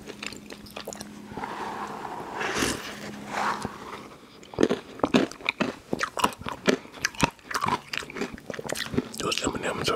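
A McDonald's McFlurry with M&M's is chewed close up, giving loud, irregular crunches and bites that grow busier in the second half, with a faint voice early on.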